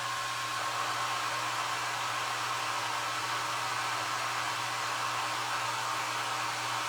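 A hair dryer blows steadily on a vintage primitive Valentine heart craft piece, a continuous close rushing whoosh with a constant motor hum and no other sounds.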